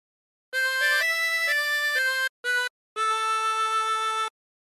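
A harmonica plays a phrase of the folk tune "Roll the Old Chariot Along" in a few sustained reedy notes with short breaks between them, ending on one long held tone. It is clear and up close, with no voices.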